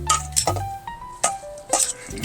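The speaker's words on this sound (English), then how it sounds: "on this slotted barbecue pan, this vegetable pan or pizza pan, I'm going to be adding in some of the broccoli, some carrots" Broccoli and carrots are set on a slotted metal barbecue pan, making several close, bright metallic clinks and taps in an irregular rhythm, mostly clear of talk.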